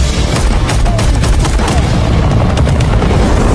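Gunfire from an attacking helicopter in an action film, a loud, dense barrage of booming shots and rapid bursts that runs without pause for several seconds.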